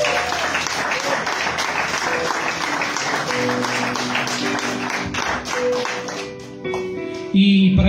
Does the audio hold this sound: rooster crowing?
no